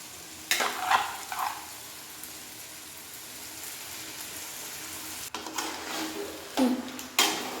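Chicken goes into sizzling masala in a pan for a Kerala chicken roast. Loud bursts of hissing sizzle rise as pieces drop in and get stirred, then ease back to a quieter crackle between them, heard up close with no voices.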